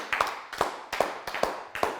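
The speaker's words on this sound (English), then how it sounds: "Give yourselves a round of applause." A handful of slow, evenly spaced hand claps ring out at the close of a full-body conditioning workout, five crisp claps fairly near and alone, with no talking.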